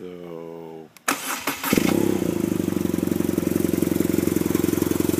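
A voice speaks briefly, then a new motorcycle's engine cranks and fires up, settling into a steady, even idle with a rapid pulsing throb close by.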